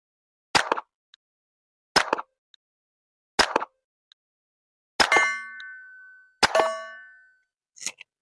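Five sharp suppressed pistol shots with 124-grain ammunition through a YHM R9 suppressor, spaced about a second and a half apart, the last two followed by a ringing metallic clang, with a faint click at the end.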